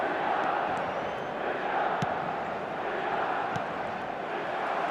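A stadium crowd in the football video game eFootball 25 roars in a steady, fairly faint wash of noise under a match commentator's voice.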